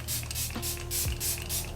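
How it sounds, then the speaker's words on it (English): Makeup setting spray mists onto a face in a quick run of about five short, close hissing bursts. "I'm going to spray a little bit of this on my face as well"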